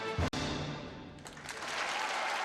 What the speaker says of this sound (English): when she was showered with much-deserved applause